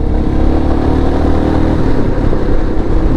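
A Royal Enfield Himalayan motorcycle engine revs loud and close, a steady low rumble with clattery mechanical texture holding throughout, no voices over it.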